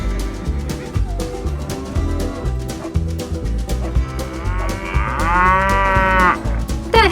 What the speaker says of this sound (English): The Hereford bull.